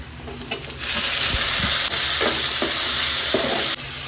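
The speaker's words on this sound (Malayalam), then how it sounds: "ഇനി ഞാൻ അതിലേക്ക് അരിഞ്ഞു വെച്ചിരിക്കുന്ന തക്കാളി ചേർത്ത് കൊടുക്കുകയാണ്." Chopped tomatoes drop into hot oil with onions and green chillies for an egg curry, bursting into a loud, continuous sizzle with a few stirring scrapes, close and alone.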